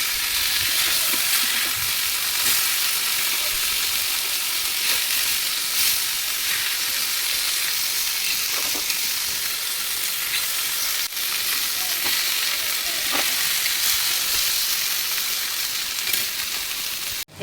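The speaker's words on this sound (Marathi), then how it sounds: "हे आपण आता फ्राय करायला ठेवलेलं आहे, होऊन जाऊ दे। आता आपण ही मच्छी ना परतून घेऊया।" Pomfret fish frying in a pan sizzles loudly and constantly up close, with occasional scraping ticks as the pieces are turned over.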